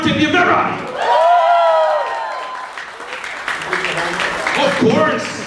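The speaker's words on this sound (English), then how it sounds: "let's give him a round of applause" An audience applauds and cheers for a singer at a concert in Dubai, clapping in loud swells with whoops, while voices talk over it.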